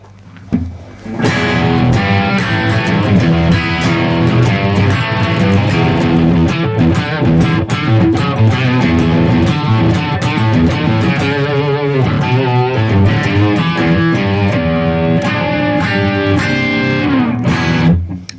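Distorted electric guitar, part of a Gibson Les Paul versus Yamaha SBG comparison, plays a dense, continuous run of crunchy chords and riffs for most of the stretch, loud and close with no voices over it.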